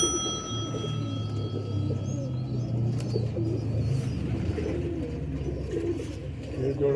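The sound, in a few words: pigeons cooing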